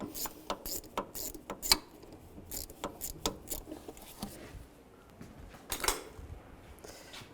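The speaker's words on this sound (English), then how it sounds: "Use the same 8mm socket. Loosen that one up." 8mm socket on a ratchet loosening a worm clamp near the throttle body of a 2010-2017 Chevrolet Equinox, soft rapid ratcheting clicks in irregular bursts with faint metallic clinks, close and quiet.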